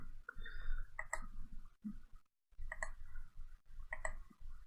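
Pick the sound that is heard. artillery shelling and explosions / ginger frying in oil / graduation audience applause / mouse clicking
mouse clicking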